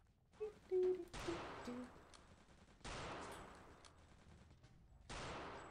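Gunfire in the video game Return to Castle Wolfenstein: three loud, widely spaced shots, each with a long decaying tail, plus a few brief tonal game sounds in between.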